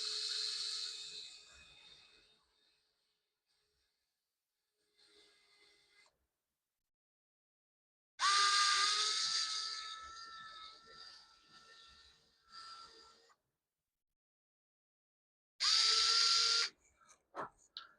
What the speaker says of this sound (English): I'm gonna take this drill now, and I'm gonna try to drill some holes.